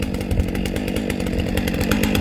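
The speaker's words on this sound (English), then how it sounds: "It's down there where the chainsaw is." A chainsaw runs loud and steady at close range, its engine drone continuous with a rough, buzzing texture throughout.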